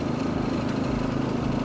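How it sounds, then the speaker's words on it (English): A Cub Cadet CC30H hydrostatic riding lawn mower runs with its engine at fast throttle and the PTO engaged, giving a steady, loud, close drone with no pauses. "make sure the engine is on fast and engage the PTO so I can mow"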